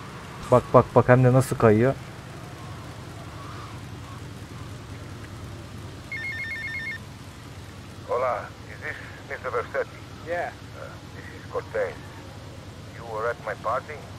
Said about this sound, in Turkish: Yağmur başladığı için.